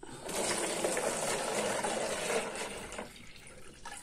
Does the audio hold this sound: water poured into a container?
yes